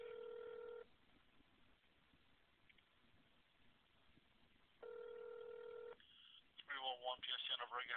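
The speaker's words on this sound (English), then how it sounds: "You're going to hear a dial tone in a moment." Over a telephone line during a call transfer, a steady ringback tone sounds, pauses to near silence, then sounds again before a voice begins speaking, all thin and band-limited like phone audio.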